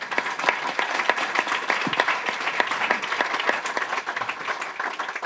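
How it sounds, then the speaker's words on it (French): An audience applauds after a talk at a French leadership and sport event, a steady dense patter of many hands clapping throughout, fairly close and even in level. "donc on peut applaudir Julien"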